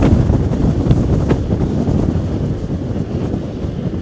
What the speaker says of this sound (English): It's fairly breezy here.